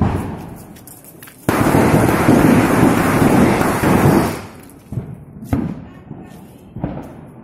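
Firecrackers bursting outdoors during Diwali celebrations, a dense loud crackling roar lasting about three seconds, followed by scattered sharp pops and bangs.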